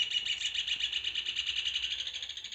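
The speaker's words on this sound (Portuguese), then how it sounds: "E os passarinhos estão bem felizes aqui cantando na minha janela" Birds sing just outside a window of a home surrounded by trees, a steady, rapidly pulsing trill of chirps that is clear and fairly close, with no voices.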